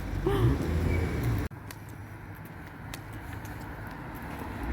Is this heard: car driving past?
yes